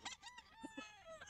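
A gamefowl stag nearly two years old crows at a busy Sunday pet market, a short, moderately loud call with clucking notes and faint background chatter.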